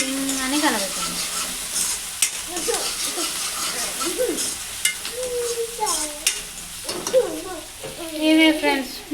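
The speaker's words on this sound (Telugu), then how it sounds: "ఆ తర్వాత టింగ్ టింగ్ టింగ్ టింగ్ టింగ్ టింగ్ అని కలబెట్టాలి" Gongura mutton curry being stirred in a pan, with steady frying sizzle and repeated scraping strokes while a person talks over the cooking.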